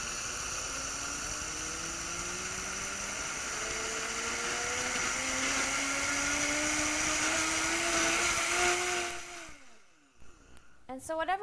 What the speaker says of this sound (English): I'm just going to put those in the blender and make a flour out of that real quick.